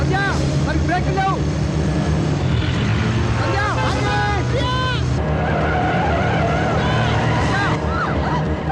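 A bus whose brakes have failed skids loudly and continuously in a comedy film scene, with squealing tires, engine roar and crowd babble layered over the whole stretch.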